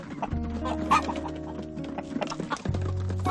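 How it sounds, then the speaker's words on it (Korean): Hens squawk and cluck agitatedly inside a chicken coop, close and loud, with overlapping calls and a sudden louder outburst partway through. "닭장 밖의 제리도 소리를 지르고 있다"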